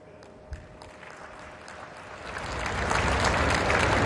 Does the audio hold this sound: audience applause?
yes